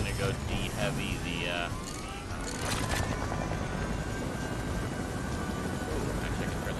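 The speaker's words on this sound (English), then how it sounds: "We got the helicopter." Helicopter rotor and engine noise from a video game, a steady dense whir filling the whole stretch with no talk over it.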